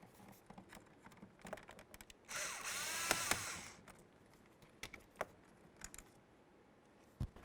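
Phillips head screws are worked out of the interior door panel of a 1998-2011 Ford Ranger. A brief, close whirring burst of a screwdriver is followed by scattered small clicks and taps.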